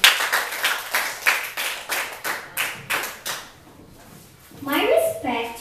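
A small classroom group at a school debate claps in short, uneven bursts of distinct nearby hand claps with gaps between them, and a voice speaks briefly near the end.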